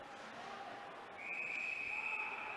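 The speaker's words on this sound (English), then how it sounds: "Lim playing until the whistle" A referee's whistle at a college ice hockey game between Drexel and Villanova, one long steady blast rising over the distant crowd and arena noise, heard fairly far off.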